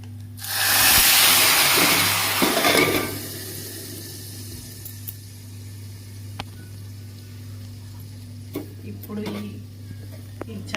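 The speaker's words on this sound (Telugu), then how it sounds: "ఇదిగోండి చారు మరిగిపోయింది ఇక్కడ చూడండి" Tamarind rasam (charu) reaches a boil in a pot, giving a loud burst of hissing, sizzling steam over the first few seconds that fades to quiet kitchen background with a few faint clinks.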